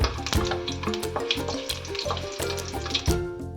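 Dry red chilli and chopped garlic fry in mustard oil while being stirred, a steady close sizzle with scraping spoon strokes and utensil clinks, loud and continuous without speech.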